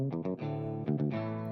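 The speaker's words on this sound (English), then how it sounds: "I'm going to hit Thrasher clean, which is the third preset" Guitar played through the Thrasher Clean preset of a Donner Arena 2000 multi-effect pedal and amp modeler: two quick plucked notes, then ringing sustained chords with a bright, slightly driven tone.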